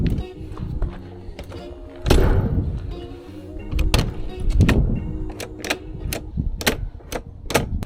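The door of an Airstream travel trailer is worked open with a series of metallic clunks, thumps and sharp clicks, close and loud, spread irregularly across several seconds.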